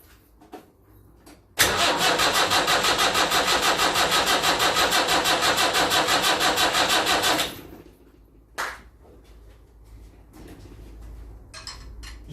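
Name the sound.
Land Rover Series 3 2 1/4 diesel engine starting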